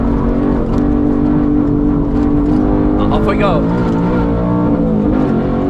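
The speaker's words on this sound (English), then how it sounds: "Let's downshift a second." Race-prepared car fitted with G-Lock brake pads and stock discs, its engine droning loud and steady on track, pitch sweeping up and down as it downshifts, with someone talking over it.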